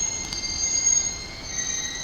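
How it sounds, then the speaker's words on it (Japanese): Yokosuka Line local train pulling into a station platform, its wheels squealing with a sustained high metallic whine over a steady rumble of rail noise, heard fairly close without talk. "まもなく1番線に普通千葉行きが参ります"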